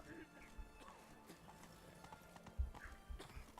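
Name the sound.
Geralt's horse Roach's hooves in the video game The Witcher 3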